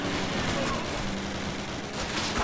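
Gunfire in the Call of Duty video game at a German roadblock, a dense burst of shots filling the short span at steady loudness, with possible game voices mixed in.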